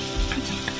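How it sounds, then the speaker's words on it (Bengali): Onion sizzles and fries in a pan, a brief, soft crackle with light stirring. "আমি পেঁয়াজটা একটু ভাজা হয়ে যেতে মা টমেটোটা দিয়ে দিচ্ছে"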